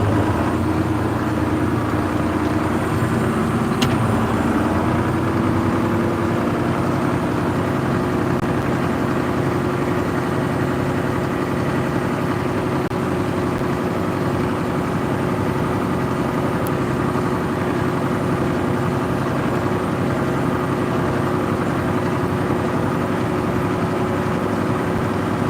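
A heavy diesel engine of a 4640 tractor idles steadily with a deep, constant low rumble and no talking throughout.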